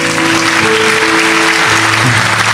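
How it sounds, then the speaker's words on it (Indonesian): Church congregation applauding in praise of God, a dense, loud wash of clapping filling the room, with faint tonal music or voices underneath. "tepuk tangan buat Tuhan kita, Tuhan Yesus."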